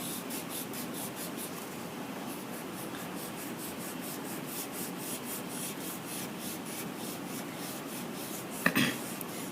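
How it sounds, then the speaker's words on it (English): White chalk pastel dragged across paper in a thick line, a close, steady scratchy rubbing that repeats in soft strokes, then ends in a brief louder scrape. "Take a white chalk pastel, draw a nice thick line"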